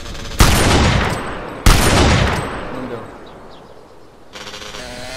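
Two loud bursts of gunfire ring out in the MTA DayZ survival game, each a sharp crack with a long decaying tail, followed by a quieter stretch and another burst of noise.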